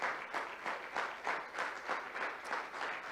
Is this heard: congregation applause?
yes